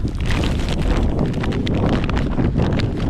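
Loud, blustery wind buffets the microphone steadily, with rough gusts and rumble throughout.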